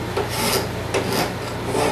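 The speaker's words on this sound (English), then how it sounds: "I might rasp it down smooth with this rasp because I probably wouldn't have any sandpaper" A hand rasp is worked over wood to smooth it, giving repeated scraping strokes in a steady rhythm, close and fairly loud with no talking.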